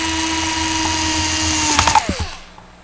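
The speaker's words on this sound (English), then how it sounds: "I'm going to use my Ryobi cordless screwdriver, since it does have a built-in clutch" A Ryobi cordless screwdriver whirs steadily as it drives a screw while modifying a FlySky GT3B radio transmitter. It sounds close and loud, then the clutch clicks a few times before the motor winds down and stops.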